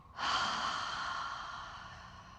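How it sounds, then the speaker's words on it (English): A full, steady exhale during a breathing exercise in a floor-mobility session, one long airy breath out that starts suddenly and fades slowly, close and alone without talk. "Inhale. Exhale fully."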